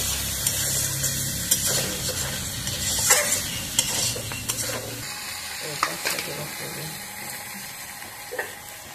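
Potato and pointed gourd chunks stir-fry in spiced oil in a pan, with a steady sizzle broken by scraping, clinking spatula strokes that come in an irregular rhythm, close and fairly loud, and no talking.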